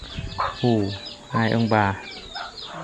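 Chickens being fed inside a house, sounding several loud, close clucks and drawn-out squawks in bursts, with a person briefly speaking between them.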